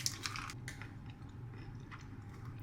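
Close-up crunchy chewing of plant-based chocolate balls, with rhythmic crackling bites over a low steady background hum.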